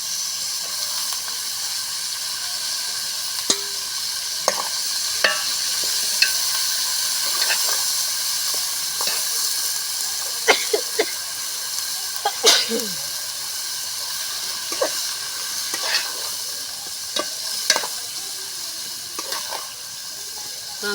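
Brinjal pieces fry in a pan with dried fish, a steady high hiss of sizzling across the whole stretch, broken by scattered small pops and crackles, with no voices.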